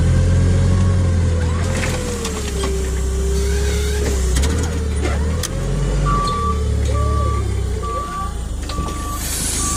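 Forklift unloading a pallet from a truck, its engine running loud and steady nearby, with regular reversing beeps sounding in the second half.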